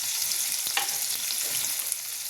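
Onion and spices fry in a pan with a constant close crackling sizzle and a brief stir partway through, no voices.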